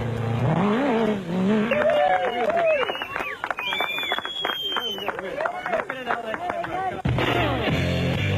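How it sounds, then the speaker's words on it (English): Off-road race vehicles, including a Jimco, roar past at the Sugarbelt 400 in South Africa, engine notes rising and falling as they pass, heard beneath a commentator's continuous narration. "John Weir Smith and Tony George in the O'Hagan's Kopanong Hotel Jimco powered their way to the finish"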